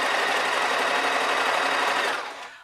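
A sewing machine runs a continuous line of stitches joining the support layer of a pajama vest top, a steady close whir that holds evenly for over two seconds before slowing and fading at the end.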